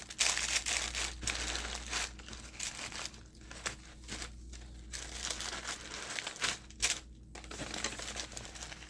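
Small cellophane bags handled up close, producing a continuous soft crinkling and rustling with brief louder crackles, quiet and close, with no talking.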